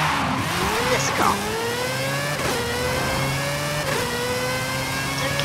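A sleeper car in Forza Horizon 5 revs hard through repeated gear changes as it accelerates toward a ramp, the engine pitch climbing and dropping several times, loud and close, with a voice talking over it.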